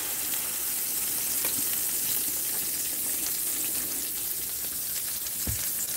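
Snapper fillets fry skin-down in a non-stick pan, giving a steady, close sizzle throughout with a few faint clicks and no talk.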